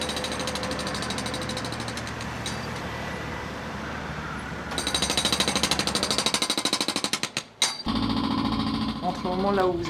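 A jackhammer pounds away at a construction site in Vitry-sur-Seine, a loud, rapid, steady hammering over city traffic noise that breaks off briefly and starts again, with voices faintly in the background.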